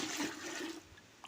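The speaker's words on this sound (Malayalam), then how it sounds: "അരി കഴുകണ വെള്ളം ഉണ്ടല്ലോ, അതും നമുക്ക് ഇതിലേക്ക് ഒഴിച്ചു കൊടുക്കാം" Water left from washing rice poured into a container of homemade kitchen-waste fertilizer, a brief close rushing splash that tapers off within about a second.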